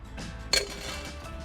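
Peanuts drop into a pan with a teaspoon of coconut oil: one sharp, close clatter in the middle of a short stretch of quiet kitchen background.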